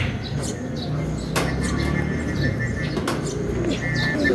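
A racing pigeon arriving at its loft, with soft repeated coos and chirps against a murmuring background, punctuated by a couple of sharp clicks or knocks.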